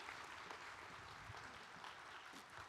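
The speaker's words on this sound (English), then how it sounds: "If you could please give them a round of applause." Sustained crowd applause at a college commencement ceremony for arts and sciences graduates, a dense, even wash of many hands clapping continuously, moderately distant and fairly quiet, with no talk over it.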